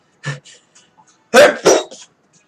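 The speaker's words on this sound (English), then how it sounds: "Sneezing on camera." A person sneezes sharply on camera, and the loud burst is followed by a second one. A few small breathy sounds come before it.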